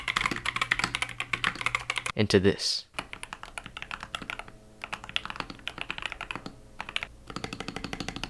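A GK61 mechanical keyboard bought from Amazon is typed on in quick, uneven bursts of clacky keystrokes, with a few words spoken partway through and a short pause in the typing.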